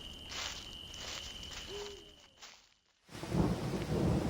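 Rain falls continuously with rumbling thunder. The storm eases into a brief near-silent lull, then returns as heavier, louder rain with a deep thunder roll.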